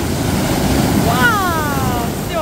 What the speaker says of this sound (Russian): Никита, сильная волна!